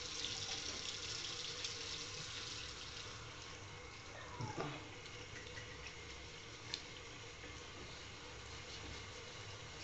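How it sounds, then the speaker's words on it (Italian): A running tap for rinsing a face with hot water, a faint steady hiss of flowing water lasting throughout, with a few light clicks and a brief clatter midway. "quindi adesso andiamo a sciacquare il visetto con acqua calda"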